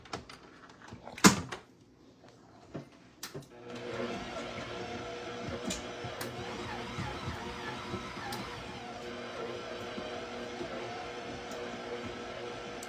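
Stand mixer beating butter into a German chocolate cake filling, a steady motor drone with rhythmic clatter that starts after a sharp knock and a few bumps, running on without talk.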